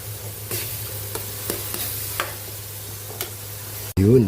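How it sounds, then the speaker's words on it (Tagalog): Miso being sautéed in a pan for sinigang sa miso with tilapia, a soft sizzle under repeated scraping and stirring strokes, with a low steady hum beneath. "Yun, nagisa na yung ating miso."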